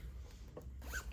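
A zipper pulled along a small fabric pencil pouch, giving a short, quiet ripping rasp near the end of a brief, fairly hushed moment.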